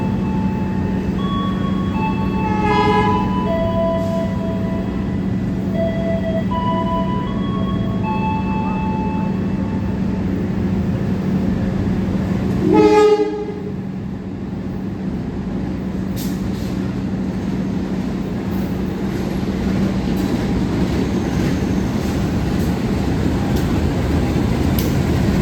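Doho commuter train arriving at track 1 of Waru station, a loud continuous rumble of rolling wagons with tonal whistle and horn-like notes early on and a brief brake hiss midway.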